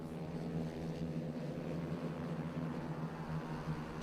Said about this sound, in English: Just listen to the riders as they pile through that curve for the first time.